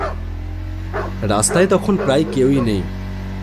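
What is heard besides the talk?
dogs barking in the distance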